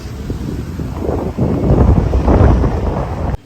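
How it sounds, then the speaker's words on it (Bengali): Strong wind gusting outdoors in front of a mosque after rain, a loud low rumbling buffet across the microphone that surges midway and cuts off abruptly at the end. "বাতাস রে বাতাস"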